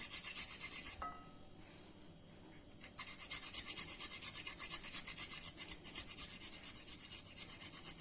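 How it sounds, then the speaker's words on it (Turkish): Garlic cloves are grated into a meatball mixture with a rapid, rhythmic rasping close by; a brief pause near the start, then steady scraping strokes continue to the end. "Arkadaşlar sarımsaklarımı da rendeliyorum içine."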